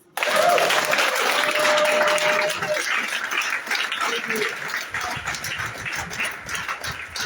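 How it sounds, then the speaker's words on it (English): Youth audience at a motivational talk claps steadily, loud at first and then thinning into looser, scattered clapping with voices faintly underneath. "Clap for me."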